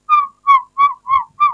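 A person whistles five short, evenly spaced notes, each with a slight falling pitch, clear and close with silence between them.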